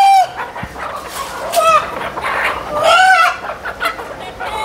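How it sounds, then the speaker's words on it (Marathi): A village rooster of native country breed clucks in loud, close bursts and gives a rising crow partway through, with faint background noise and no clear speech. "ओरिजिनल अस्सल गावठी कोंबडा"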